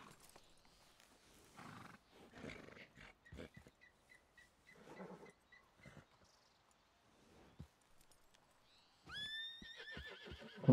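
Several horse neighs and whinnies ring out in a video game amid faint hoof clops and scattered clatter, ending in a louder high, quavering whinny near the close.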